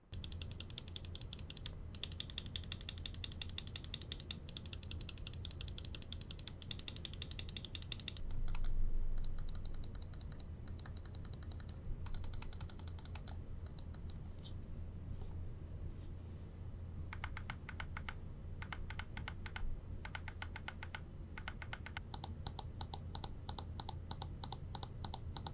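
A Razer Basilisk V3 gaming mouse gives sharp, quiet button clicks, tapped in quick runs and single presses over a low steady hiss.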